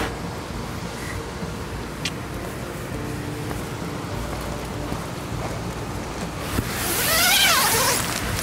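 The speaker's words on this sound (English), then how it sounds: "Oh, the rain." Steady rain hiss beside a brook on the Seawall Trail in Cape Breton, Nova Scotia, with a brief higher-pitched chirping burst near the end; no voices.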